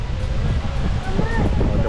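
A steady, loud rushing roar of waterfall spray at Parque Tanguá fills the air, mixed with wind buffeting the microphone, while people talk nearby.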